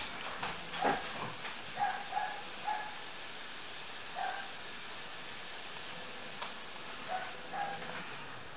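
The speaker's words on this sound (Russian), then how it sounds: "Жарится." A steady sizzling hiss of a cottage cheese dish frying in a pan, with faint pops and crackles scattered throughout.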